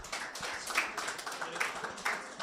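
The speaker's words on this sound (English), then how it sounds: "Yes, you can applaud." Audience applause at the end of a televised business panel event, dense steady clapping from many hands throughout, moderately loud and continuous with no talk over it.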